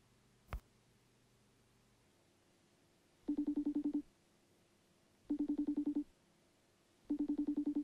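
Three bursts of rapid telephone keypad tones ring out in steady, evenly spaced groups, each about a second long, with a short sharp click just before them and a quiet background between.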